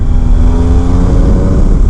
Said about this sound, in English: I don't know if you can hear the exhaust note, but it's rather pleasant if you get onto it.